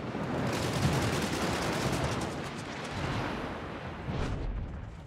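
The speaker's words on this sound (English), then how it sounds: "Concentrate fire on the enemy warship." Warship guns fire at an enemy ship in a naval battle video game, giving dense, continuous rumbling bursts of gunfire and explosions at moderate loudness, with a few sharper cracks standing out.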